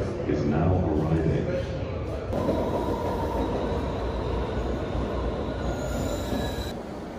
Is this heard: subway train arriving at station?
yes